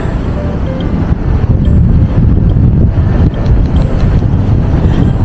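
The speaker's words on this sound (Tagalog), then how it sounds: "Malakas kasi yung hangin." Steady, loud wind buffeting during parasailing in Boracay, a broadband rumbling roar with gusts swelling in the middle, no clear voices.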